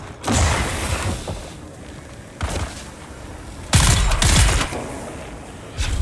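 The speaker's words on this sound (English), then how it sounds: "Healing myself while someone is shooting at me. Like, literally bullets hitting me while I'm trying to heal myself." Gunfire strikes the player in Dune: Awakening, arriving as several loud, sharp bursts with brief lulls between them and no talk.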